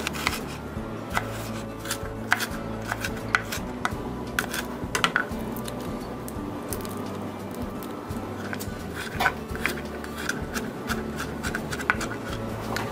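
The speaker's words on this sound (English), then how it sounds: "I'm going to peel and chop the onion and garlic to saute." Onion and garlic being peeled and chopped in a home kitchen for a sauté, heard as a steady run of crisp knife taps and small clatters on a board, fairly close, with no talking.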